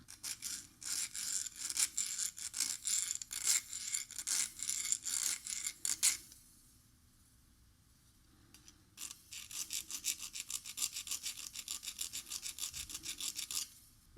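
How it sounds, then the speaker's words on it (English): A narrow flat hand file working the cut ends of snare wires, rapid rhythmic rasping strokes close to the ear, pausing for a couple of seconds and then resuming at the same brisk pace, no talk. "The filing that I'm doing here is not really to remove a ton of metal from the ends of where the wires are poking at."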